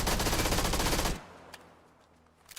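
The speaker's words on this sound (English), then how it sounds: "you put M16 on burst fire and it had like 0 recoil" Rapid automatic gunfire from an M16 in PUBG, a dense, loud stream of shots for about a second, then it stops abruptly into quiet with a few faint distant cracks.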